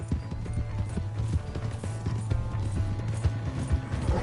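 Horse hooves clip-clop steadily in Red Dead Redemption on PS4, a continuous rhythmic trot of close, moderately loud hoofbeats over a busy game soundscape, with no talk.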